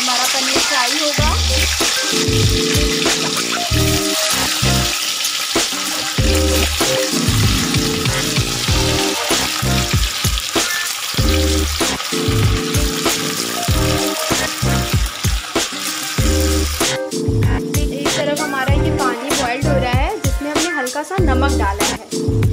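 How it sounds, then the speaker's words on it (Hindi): Paneer fries in oil in a kadai with a loud, continuous sizzle, while rhythmic background music plays alongside. "अब हम इसमें अपना पनीर डालेंगे, हमारा पनीर फ्राई होगा।"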